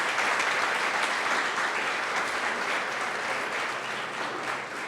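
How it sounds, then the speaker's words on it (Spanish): A church congregation at a Spanish-language worship service claps together in praise, a thick, sustained ovation that stays loud throughout and tapers only slightly near the end. "Dale otro aplauso a Jesús."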